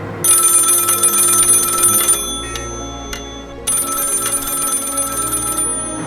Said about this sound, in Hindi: टेलीफोन की घंटी बजना शुरू हुई।